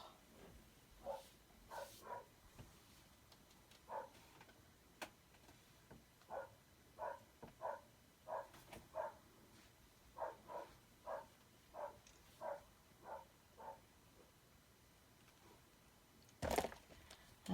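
A dog barks outside in a yard in a steady run of single barks spaced about a second apart, at moderate distance, with one louder, sharper sound near the end and no talking.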